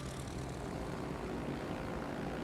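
Carrier planes in World of Warships: Legends, a loud, dense, continuous propeller engine drone filling the whole stretch with no breaks.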